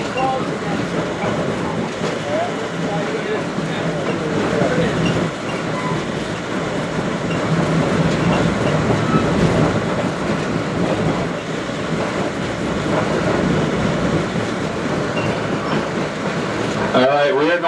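Heritage passenger train on the Naugatuck Railroad rolling along steadily, a continuous loud rumble with rhythmic wheel clatter on the rails throughout, ending in a brief squeal near the close.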